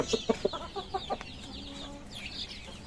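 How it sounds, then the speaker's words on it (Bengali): Hill chickens bred from Rangamati stock cluck in a quick run of short, clipped notes close by, then the clucking trails off into fainter calls. "এই মুরগিটাকে দেখেন এটা হচ্ছে প্রথম ব্রিডের যে বাচ্চা আমি রাঙামাটি থেকে নিয়ে আসছিলাম"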